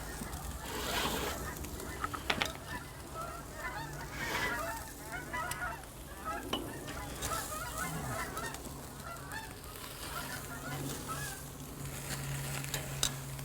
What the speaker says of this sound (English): I don't know if you can hear the geese flying over